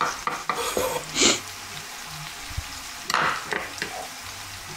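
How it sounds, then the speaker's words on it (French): Diced apples cooking down into a compote in a frying pan, with a soft sizzle under intermittent scraping stirs and a few clinks of utensil against pan, close and fairly quiet. "les mettre dans la poêle, voilà, les faire cuire, faire compoter ces pommes"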